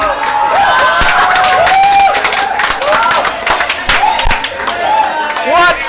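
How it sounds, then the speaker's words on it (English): A crowd at an esports grand finals match applauds and cheers loudly and continuously, with clapping and excited shouting that fills the hall throughout. "Round of applause for our teams right now."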